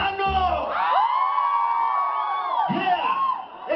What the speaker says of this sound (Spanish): ¡Y otro grito mexicano!